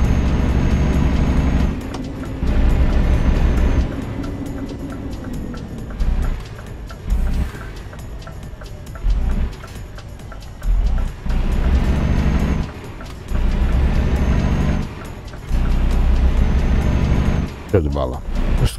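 Low, constant engine drone of a truck in Euro Truck Simulator 2, humming steadily beneath a man's frequent Portuguese chatter.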